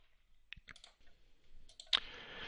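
A few sharp computer keyboard key clicks, one of them the F9 key, in a quiet room, spaced out over a couple of seconds, with a louder click near the end.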